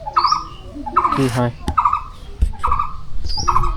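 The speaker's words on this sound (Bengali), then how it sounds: "আর পাখির ডাক শুনতেছেন তো?" Birds call in a village garden, repeating a short tonal call about every second from close by, while a person talks over and between the calls.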